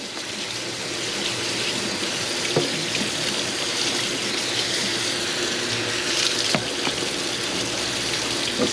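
Water runs steadily from a sink tap during dishwashing, with a brush carrying built-in water and soap scrubbing alongside; the broadband flow stays continuous and close for the whole stretch, with a few small clinks and no talking.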